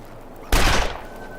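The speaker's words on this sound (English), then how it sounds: "That was a waste of shots, but you annoyed me, so you got shot in the arse." A gunshot at an animal in The Long Dark, a single loud, close blast with a short decaying tail breaking a quiet background.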